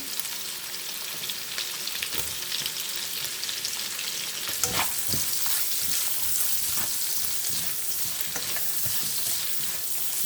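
White onions and ginger sauté for a fish soup in a hot pan, a close, steady crackling sizzle with occasional sharper spatters and stirring scrapes, no voices.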